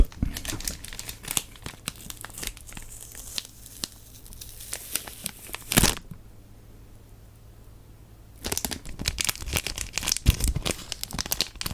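Packaging of a Muji aluminum fountain pen torn and crinkled open up close, dense crackling paper and plastic rustles with a brief quiet pause before more handling resumes.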